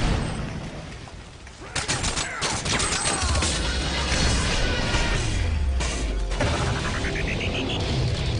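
Video game combat with a thrown grenade going off among dense gunfire, crashes and booms that stay loud and continuous throughout, with a brief drop before a burst of impacts.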